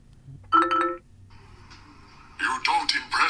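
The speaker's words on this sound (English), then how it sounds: "That's the Kodokan ringtone." Kodokan ringtone playing on a OnePlus 15 phone: a short bright tone burst, a quieter sustained electronic chord, then a louder cluster of rapid melodic notes, heard close and clear.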